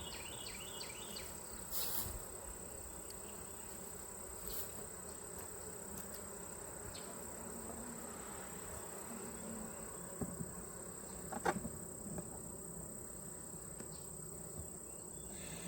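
Honey bees buzz steadily around an open hive during a queen check, a continuous low hum with a few sharper insect passes close by and a faint high whine throughout.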